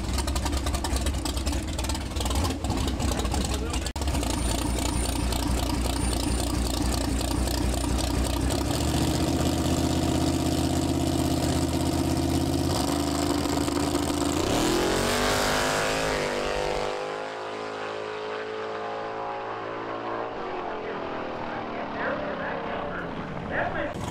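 A drag car with a 370 small block, 76 precision twin turbos and a Powerglide transmission runs at a small-tire race night. It makes a loud, sustained engine roar with harsh rasp, then the sound shifts and eases off partway through, while a voice talks over it.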